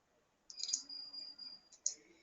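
Computer mouse clicking on hospital clinic software, two crisp clicks near the start and a sharper one just before the end, close up and quiet against a faint room hush.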